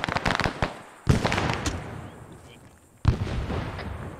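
Frag grenades burst in ARMA 3 SOG Prairie Fire gameplay, two loud booming detonations with rumbling decay after a quick patter of distant gunfire.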